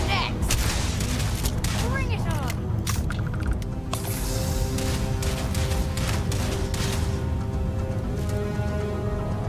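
Gunfire in the video game Starfield during the Old Neighborhood mission: dense, continuous volleys of shots and booms, loud and close, with some short tonal game effects near the start and a steady battle din throughout.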